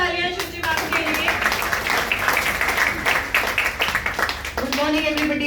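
Audience at a Mother's Day gathering applauding Shuchi ma'am: a few seconds of dense clapping between stretches of a person talking.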